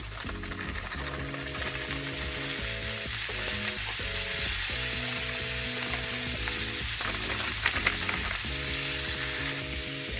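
Red onions and green peppers frying with pork in butter for sisig, a steady close sizzle running the whole time with the soft clatter of stirring layered over it, no voices.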